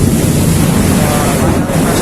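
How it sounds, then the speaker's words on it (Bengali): Steady, loud wind during a heavy storm rumbles and buffets the microphone for the whole stretch, with no pauses or other clear sounds. "ওই দিক থেকে প্রচুর পরিমাণে বাতাস আছে"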